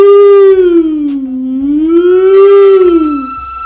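A loud, pure siren tone rises and falls slowly in one smooth, continuous wail, like a civil defense siren, with rich overtones. It plays alone, with no talking over it.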